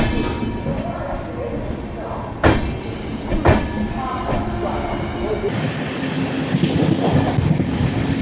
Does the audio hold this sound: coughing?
no